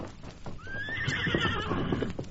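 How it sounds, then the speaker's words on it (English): A horse whinnies in a long rising-then-wavering call over steady clip-clopping hooves, close and fairly loud, set in an Old West trail drama. "Look, him get on horse again."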